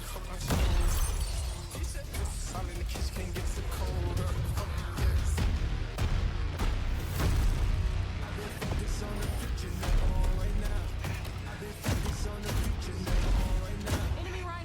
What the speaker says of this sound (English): Cluster grenade.